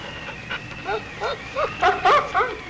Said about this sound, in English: This dog's feet are cut.